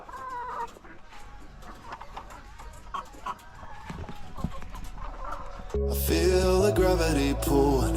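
Chickens cluck close by for several seconds, then loud music with singing abruptly starts and drowns them out.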